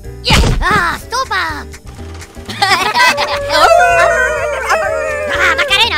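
A puppy howls loudly nearby in drawn-out, wavering cries, mixed with yips and people talking and exclaiming over it.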